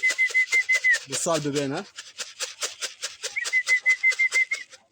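Pigeons in their loft give off a steady run of rhythmic calls with a thin, sustained whistling tone running through them, fairly close. Someone speaks briefly partway through.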